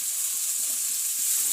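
Chopped dill greens frying on a hot iron griddle give a steady, soft hiss with faint crackles and stirring scrapes, close and even with no voices.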